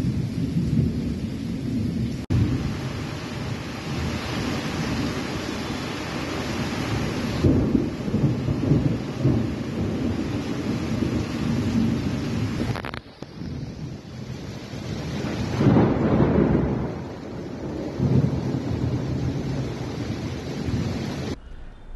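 A heavy midnight storm in Bhavnagar brings strong wind, rolling thunder and pouring rain in a dense, loud wash, with several deep thunder rumbles swelling and fading and wind buffeting the microphone.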